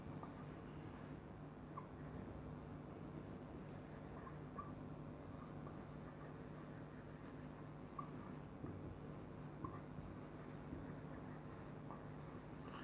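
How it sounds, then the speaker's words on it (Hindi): Pen or marker writing by hand on a board or page while working a real-numbers math example, a faint continuous scratching under steady background hum, with no talk. "यहाँ पे मैं लिख देता हूँ।"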